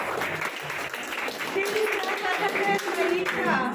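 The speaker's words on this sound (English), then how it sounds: "A huge round of applause." Applause from students and guests at a school alumni meet and farewell for a graduating batch, a dense steady clatter of many hands clapping at close range for almost four seconds, with voices mixed in.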